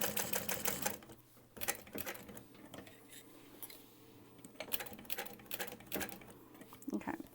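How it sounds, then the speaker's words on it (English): A sewing machine stitches a waistpack in short bursts with pauses between them, the runs fairly close and moderately loud, with light handling clatter of fabric and hardware in the gaps. "I'm gonna sew this on first"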